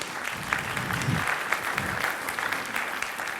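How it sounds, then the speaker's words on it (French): A conference audience applauds steadily throughout, a dense patter of many hands clapping at close range. "je voudrais qu'on l'applaudisse"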